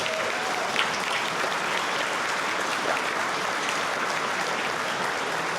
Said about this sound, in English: They really deserve a big round of applause.